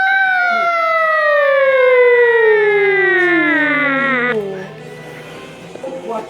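A human voice imitates a siren with a long, loud descending wail that slides steadily downward for about four seconds before breaking off, followed by faint background noise.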